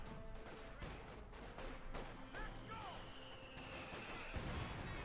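Mortar fire in the video game Company of Heroes 2 during a team battle, with scattered muffled explosions and impacts under a commentator's continuous speech.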